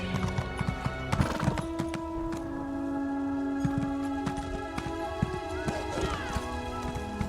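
A horse clip-clops along in Elder Scrolls Online: steady, close hoofbeats with an occasional whinny and snort, over quiet game ambience and music.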